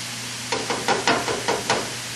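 Beef sizzles steadily in a hot frying pan, a continuous hiss with several soft crackling bursts spaced about every fraction of a second, close up with no talking.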